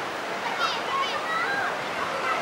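A river on Sumatra pours down from above, a soft, steady rush of flowing water heard from a distance with a faint, hissy texture.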